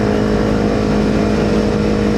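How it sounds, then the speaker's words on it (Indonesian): A Kawasaki Z250 motorcycle fitted with a local WRC aftermarket exhaust runs loud and steady, a continuous throaty engine drone with no talking. "ini kemarin memang kebetulan baru ganti knalpot, dikasih temen buat dicoba dulu pakai knalpot lokal dari WRC Knalpot."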